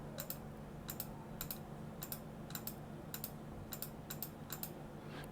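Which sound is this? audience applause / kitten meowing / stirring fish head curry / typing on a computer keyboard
typing on a computer keyboard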